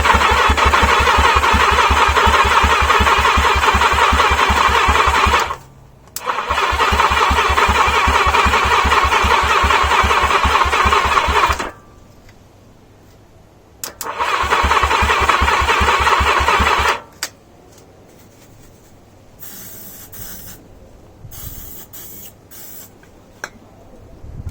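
A 1980 Yamaha XJ650 motorcycle engine running on brake cleaner instead of fuel, roaring loud and steady in two long bursts that cut out abruptly, separated by a quieter gap, then dying off into faint clatter.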